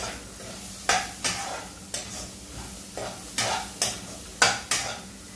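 Chana dal sundal being sautéed and stirred in a pan for a Navratri dish, with a soft sizzle underneath and about eight sharp scrapes of a spoon against the metal, spaced roughly half a second to a second apart.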